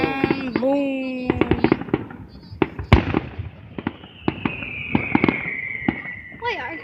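Fireworks crackle and pop in rapid irregular bursts with a sharp bang and a rising whistle, while people talk and react excitedly throughout.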